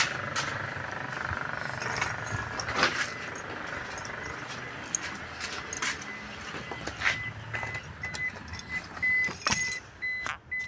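Car keys jangling in the hand beside a car with a faulty ignition switch, bursts of metallic clinks scattered over a steady low background hum, with small clicks and rattles throughout.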